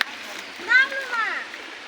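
Rushing river water pours steadily as people wade across a village stream, with voices calling over the flow.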